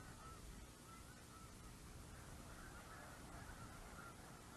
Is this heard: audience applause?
no